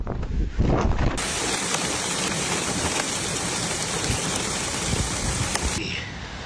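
Heavy rain pours down in a powerful Pennsylvania storm with gusting wind, a dense, continuous roar that stays loud throughout and eases slightly at the very end.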